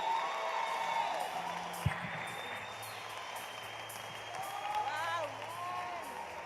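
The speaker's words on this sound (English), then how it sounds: "A round of applause, ladies and gentlemen, please." A crowd at a youth empowerment event cheers and claps after a speech, with whoops and scattered shouts over a continuous bed of applause at moderate distance and one sharp bump partway through.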